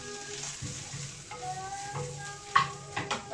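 Green peppers frying in oil in a frying pan, a low continuous sizzle broken by occasional light knocks and stirring sounds, close and quiet.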